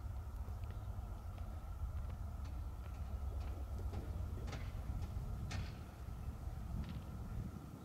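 A Union Pacific mixed freight train rumbles past at a distance, its low, continuous roar broken by scattered metallic clanks and squeaks.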